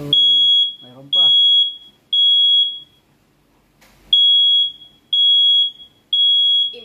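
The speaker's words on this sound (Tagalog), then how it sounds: "The smoke alarm is over." A smoke alarm sounds a run of loud, sharp, high-pitched beeps in an even rhythm, each about half a second long, with a short pause partway through and a voice talking between the first beeps.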